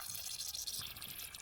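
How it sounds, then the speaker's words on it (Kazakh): Water runs out of a home heating radiator after trapped air is bled off, a faint, steady hissing trickle heard on its own. "Су ақты."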